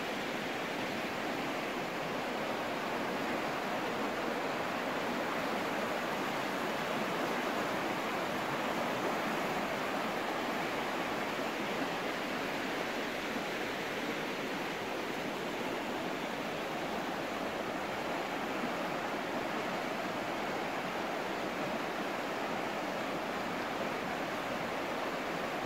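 The river in the Hebden Valley rushes steadily, a dense, continuous wash of flowing water with no breaks and no voices.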